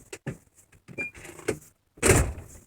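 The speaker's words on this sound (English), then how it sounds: "Excuse the door" A house door is opened and closed as someone heads out, giving a few soft knocks and a firmer thud near the end, close by and on its own.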